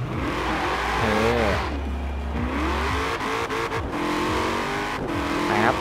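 An AWD-tuned Chevrolet Camaro in Forza Horizon 4 revs hard, its engine pitch rising and falling through several throttle blips over a low rumbling idle, close and loud with no talking.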